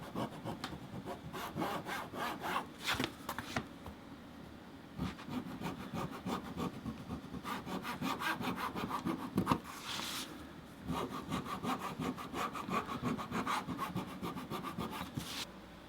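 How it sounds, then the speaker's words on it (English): Purple leather being roughed up before gluing for a notebook: continuous close abrasive scraping strokes in a steady back-and-forth rhythm with brief pauses, alone and moderately quiet. "we'll rough this up just a little bit to make sure the glue sticks."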